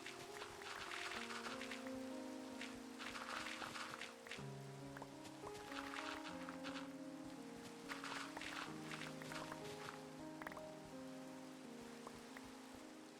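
Steady rain pattering across a Minecraft world, a constant even hiss of drops running under soft blocky game tones and chimes, with no voices.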